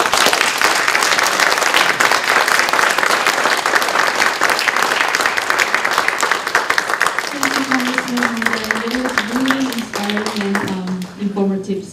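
Loud, sustained audience applause at an anniversary ceremony, thick and continuous, with a voice starting to speak over the clapping near the end as it thins.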